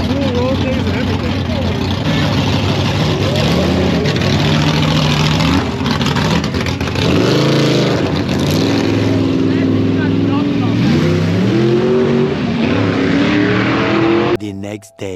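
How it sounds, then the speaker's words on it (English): Engines at a car meet roar loudly throughout, with pitch sweeping up and down as a dragster accelerates in bursts, close and continuous before cutting off abruptly at the end. "You guys ready for the dragster?"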